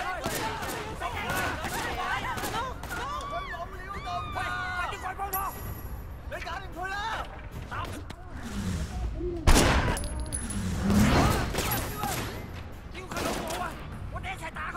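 Gunfire bursts in the open-world crime game Sleeping Dogs during a warehouse raid, sharp cracks and a rattling volley around the middle, over game voices and background chatter.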